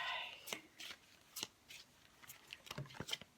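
Cosmic Tarot cards being shuffled by hand, a series of quick papery riffles and slaps in irregular bursts, close and fairly quiet with no talking.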